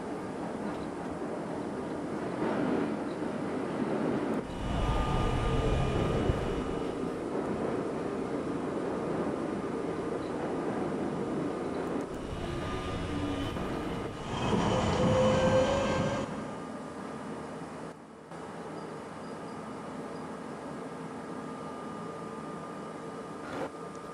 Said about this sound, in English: This is a West Point bound D Express train.